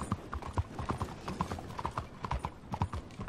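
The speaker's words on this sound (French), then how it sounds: "Oh, les bruits des pavés. Oh, ce petit son. Du cheval qui galope sur les pavés." Horse hooves clip-clopping on cobblestones in the game Red Dead Redemption 2, a steady, close rhythm of sharp hoof strikes running throughout with no talk.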